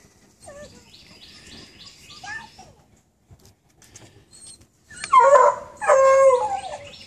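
Beagle puppies howl and whine in thin, wavering high cries, first in a soft string of short yelps, then, after a quiet pause, in louder, closer howls.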